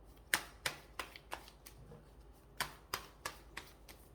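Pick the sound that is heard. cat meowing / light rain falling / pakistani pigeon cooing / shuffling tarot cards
shuffling tarot cards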